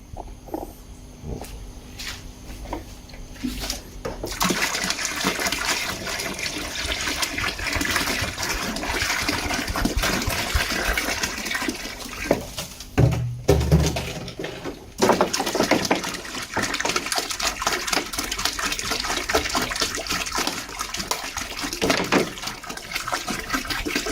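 Water mixed with green water is poured out for a red moina culture, a continuous gushing, splashing pour that runs for many seconds, with brief breaks and changes in flow.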